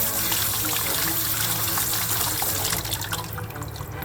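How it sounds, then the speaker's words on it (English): Water rinses over server chassis parts from a 1999 server, a steady broadband rush like a running tap filling a sink, continuous and close, thinning slightly near the end. "I used a mild soap and a brush before rinsing everything thoroughly."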